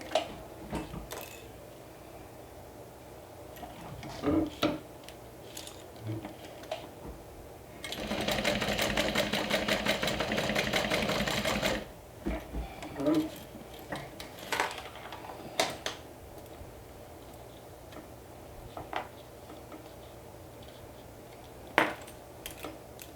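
A sewing machine stitching fabric in one steady rapid run of about four seconds midway, framed by quiet handling clicks and taps before and after.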